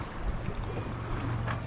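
A sailboat running with its spinnaker up off the Scottish coast. Steady rushing wind and water wash past the hull, with low, continuous buffeting on the microphone and no voices.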